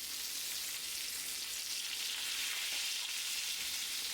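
Louisiana-style catfish fries in a pan, giving a steady, close sizzle with a bright, crackling texture throughout and no talking.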